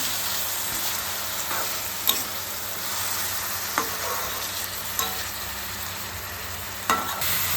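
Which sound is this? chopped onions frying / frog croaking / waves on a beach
chopped onions frying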